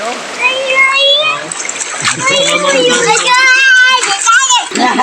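Water splashing loudly as children swim and play during a family outing, with excited kids' voices and adult chatter running over the splashes throughout.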